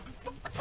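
A chicken gives a few short, close clucks while feeding, quick soft bursts in a yard setting.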